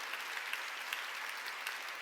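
A church congregation breaks into steady, dense applause, the even clapping filling the hall with no voices over it.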